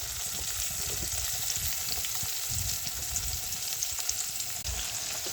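Tomatoes go into a pan of softened onions for a cauliflower masala and fry with a steady, fairly quiet sizzle and hiss that carries on through the whole stretch. Nobody speaks.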